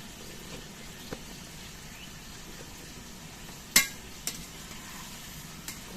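Vegetable chhechra being stirred with slit green chillies and turmeric in a pan, a faint soft sizzle with a few scattered clinks of the spatula against the metal.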